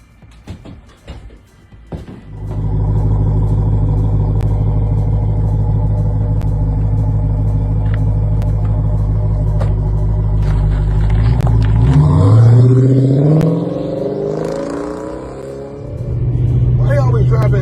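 A car drives along a road, its engine a steady droning hum from inside the cabin that swells and climbs as it accelerates, then settles back into an even cruise.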